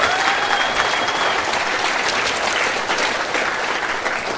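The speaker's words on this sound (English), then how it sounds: "give the guys at the back a big round of applause" Steady, dense audience applause fills the whole stretch at even loudness, a broad wash of clapping from a concert crowd without breaks.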